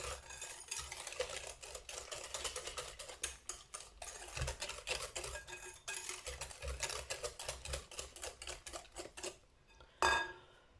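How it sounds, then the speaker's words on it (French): Lemon cake batter with sugar is mixed briskly in a bowl, a utensil clicking and scraping in a fast steady rhythm for several seconds, then a louder knock near the end, all fairly quiet and without voices. "Je mélange."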